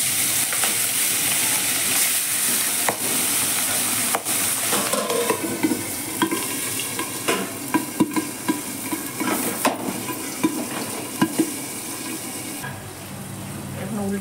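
Ghaora fish frying in a pan: a steady hiss of sizzling oil with stirring and scraping clatter, plus a few louder spits and pops partway through.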